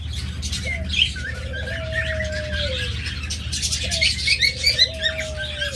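Caged pet birds at a bird farm squawk and chirp busily, with two drawn-out coo-like calls rising over the nearby chatter, steady and close.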